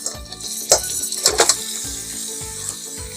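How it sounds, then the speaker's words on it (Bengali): Drained pasta tipped into a hot pan and stirred, with a few soft scraping, clattering strokes over a gentle sizzle, moderately close and without talk. "পাস্তাগুলো দিয়ে দিয়েছি, পাস্তাগুলো একটু নেড়ে নেব"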